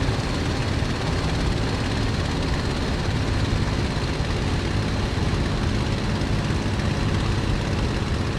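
A BF109 warplane engine in Microsoft Flight Simulator, throttled back on a landing approach, drones as a loud, steady, unbroken roar with no talk over it.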